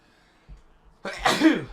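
A single short sneeze, sharp and close, preceded by a faint breath, with no speech around it.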